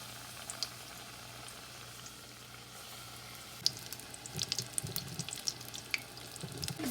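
Batter-coated potato balls for batata vada deep-fry in hot oil, giving a steady, close bubbling hiss with scattered small pops and crackles that grow busier in the second half.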